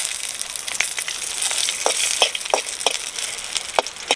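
Garlic, pepper and spices roasting in oil for a village-style fish curry, with a steady close sizzle broken by repeated short crackling stirs and scrapes and no talking.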